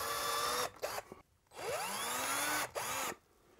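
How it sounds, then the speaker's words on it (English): A power drill bores a short way into a shelf to start the screws. Several close, loud bursts of whining motor speed up and slow down with brief pauses between them, and no one speaks. "just drill a little bit into the shelf to make sure the screws go in okay"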